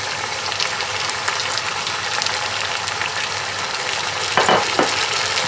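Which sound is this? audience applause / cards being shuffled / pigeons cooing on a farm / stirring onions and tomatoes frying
stirring onions and tomatoes frying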